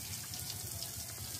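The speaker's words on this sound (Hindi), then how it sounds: "तो अभी हम लोग डालेंगे पौधों में पानी" Water poured over potted plants on a house rooftop in the evening, a steady close splashing and trickling hiss with no voices.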